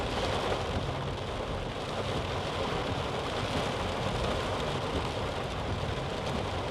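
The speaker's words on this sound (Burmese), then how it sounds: "မိုးရွာနေတဲ့အချိန်" Steady rain pours down in Yangon during a drive around the city, a dense, even hiss with a low rumble underneath, continuous throughout and fairly close.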